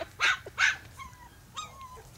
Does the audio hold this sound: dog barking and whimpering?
yes